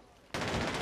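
A burst of P90 submachine gun fire in a video game kicks in suddenly after a short quiet moment, a rapid continuous rattle that is fairly faint.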